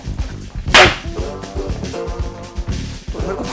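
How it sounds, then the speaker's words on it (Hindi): One sharp, loud slap lands across a face during a heated family argument, a single crisp crack standing out clearly against the background of the scene. "मेरे को थप्पड़ मारा"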